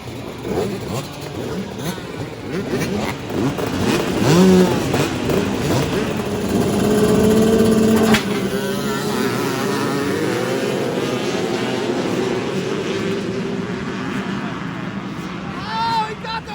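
A Honda CR500 two-stroke motorcycle races, its loud engine droning and revving steadily with shifting pitch, close and sustained, mixed with other engine noise.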